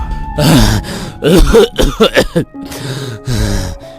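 A man coughs and clears his throat repeatedly after being choked, harsh close bursts broken by ragged breaths, in a dramatized horror story.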